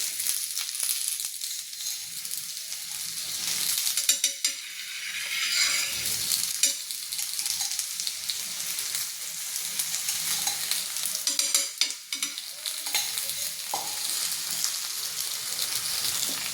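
Cucumber thalipeeth sizzling in ghee on a pan, a steady close, bright frying hiss with occasional louder crackles throughout.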